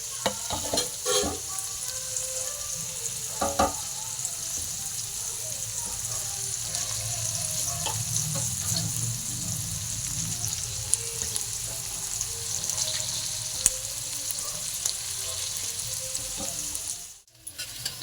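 Capsicum sizzles steadily in a hot pan for chilli paneer, with occasional stirring scrapes and faint clatters over a continuous frying hiss, near and moderately loud, ending abruptly.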